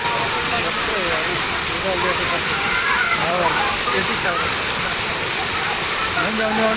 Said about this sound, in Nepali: खत्रै झरना हो के।